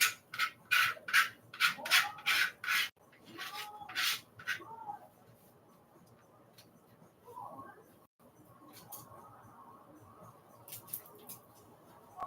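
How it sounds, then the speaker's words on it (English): A spoon scraping seeds out of a halved bell pepper, a quick run of close, dry rasping strokes at the start, then quieter scratching and rustling with soft pauses between. "Some seeds on the top, so let's scrape them out the way."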